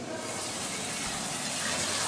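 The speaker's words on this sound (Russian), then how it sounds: "Воду набираем здесь вот" Water runs steadily from a tap at a construction site, a continuous close hiss of filling liquid with no breaks.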